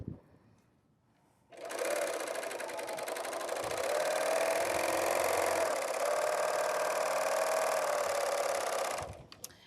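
A BERNINA overlocker stitching over cording for a woven basket: a close, steady high-speed mechanical whir that starts abruptly after a quiet second, runs for about eight seconds and then stops.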